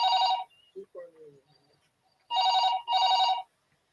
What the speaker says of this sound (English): Keep on ringing, madam.